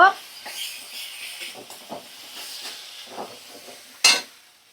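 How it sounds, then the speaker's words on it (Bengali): Spices and mustard paste fry in a pan for a fish dish, giving a soft sizzle with occasional stirring scrapes and one sharp utensil clink near the end. "এবার সমস্ত মশলা আমি ভালো করে 2 মিনিট একটু কষিয়ে নেব।"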